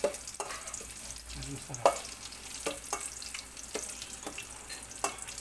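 Garlic frying in a pan for ginataang yellowfin tuna, a soft sizzle under repeated sharp scraping stir strokes at a steady, uneven rhythm, with a brief spoken remark.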